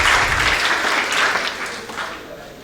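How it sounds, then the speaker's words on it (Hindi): A lecture audience claps loudly for a student called to the stage, a dense burst of applause that starts strong and gradually thins and fades out. "जोरदार तालियां अर्चित के लिए।"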